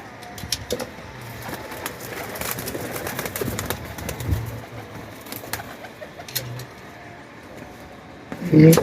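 Soft pigeon coos repeat at intervals over a low outdoor hum, with a louder burst near the end.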